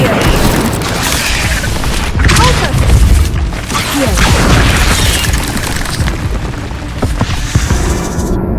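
Incendio fire spell cast in Hogwarts Legacy, loud continuous roaring booms and crackling blasts amid combat noise, with a voice speaking over it.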